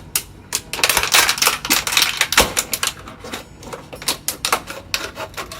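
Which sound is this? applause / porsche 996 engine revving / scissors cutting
scissors cutting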